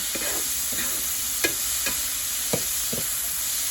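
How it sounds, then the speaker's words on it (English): Chicken and mushroom quiche filling stir-fried in a pan over medium heat: a soft steady sizzle broken by a series of sharp spatula scrapes and taps. "You all can see now the stove is in medium heat and I'm going to stir fry it well."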